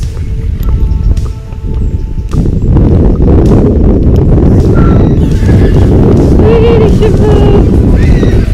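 A pony being ridden outdoors, heard from the rider's position: steady hoof clip-clop with snorts and a whinny, under wind buffeting the microphone, with a rider's voice speaking briefly.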